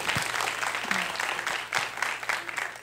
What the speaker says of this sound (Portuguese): Palmas de novo para a Amélia, gente.